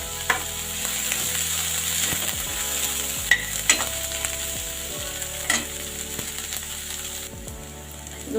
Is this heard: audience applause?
no